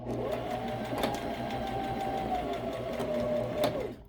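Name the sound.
sewing machine back stitching a wool diaper cover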